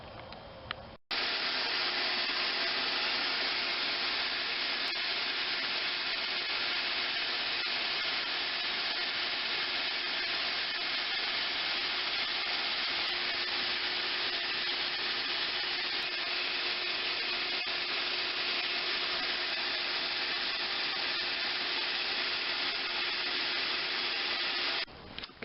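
Steady broadband whooshing roar of a vacuum nozzle drawing dust off a sanded car body dent repair, loud and constant for the whole stretch, cutting off abruptly at both ends.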